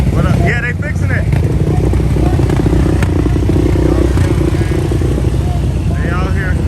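Dirt bike and ATV engines, including a Yamaha YFZ450R and a 2020 Raptor, run together at an outdoor bike ride-out, a steady loud drone of motors with people talking over it.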